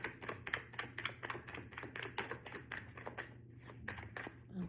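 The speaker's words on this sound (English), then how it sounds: "They're telling me to shuffle one more time." Rapid riffling of a deck of cards, a quick run of crisp flutters repeating steadily and close up, with no talking.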